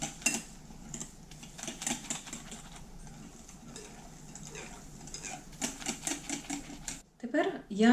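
Enriched dough for Christmas bread being stirred into a risen sponge in a bowl: a steady, busy clatter of utensil taps and scrapes close by, with a brief voice near the end.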